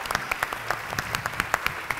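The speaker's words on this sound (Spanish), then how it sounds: "Un aplauso acá para mi testigo." Studio audience applauding a witness called up on a courtroom-style television show, heard as a sparse scatter of separate claps at moderate volume with no talk over it.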